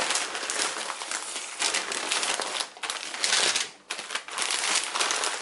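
Ordinary packaging paper is crinkled and torn open while unwrapping a parcel, with loud close crackling bursts in uneven waves and short pauses between them and no voices.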